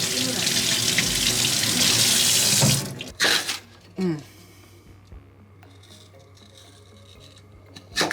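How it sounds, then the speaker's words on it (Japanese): Tap water running into a sink while lotus root is washed, a steady loud rush that stops after about three seconds, followed by a few knocks and clatters in a kitchen. "If you drop the lotus fruit, just wash it."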